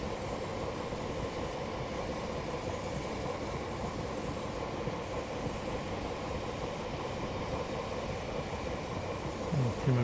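A Class 175 express train runs in Train Simulator 2017, giving a steady rumbling drone of engine and rolling wheels that holds at an even level throughout.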